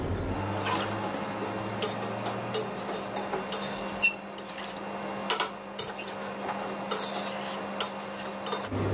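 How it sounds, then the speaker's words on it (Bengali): A lid is set onto a wok (kadai) of fish curry. Light metallic clinks and taps of utensil and cookware recur irregularly over a quiet kitchen background. "এবার আমি কড়াটা একটা ঢাকা দিয়ে ঢেকে দিলাম।"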